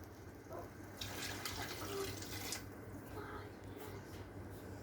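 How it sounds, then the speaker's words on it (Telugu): Coconut water poured into a cooking pot for coconut rice with tomatoes, a steady near splashing pour that swells after the first second, no talk. "ఒక గ్లాస్ బియ్యానికి 2 గ్లాసులు కోకోనట్ వాటర్ పోసుకోవాలి"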